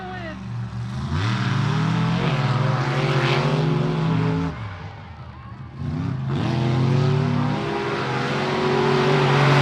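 Monster truck engines roar and rev at a live arena show, rising and falling in loud, close surges with a brief dip midway, while crowd noise fills in around them.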